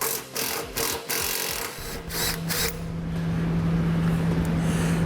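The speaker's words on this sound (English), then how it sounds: "we're going to need to drop this skid plate down using a 12mm socket." A 12mm socket on a ratchet removes the skid plate bolts on a 2003 Toyota, with quick rhythmic clicking that gives way to a steadier whirring grind, close and loud with no one speaking.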